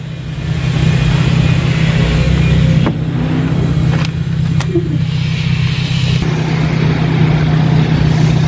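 A car's 16-valve carburetor-type engine idles steadily up close, a loud constant hum with a low drone, interrupted by a couple of brief clicks and knocks.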